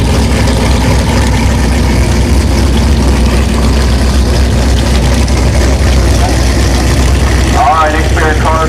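Supercharged ZL1 Camaro drag cars of the unlimited blower class at Orlando Speed World's Cadillac Attack: a loud, continuous low engine rumble and idle filling the track, with a higher whine near the end.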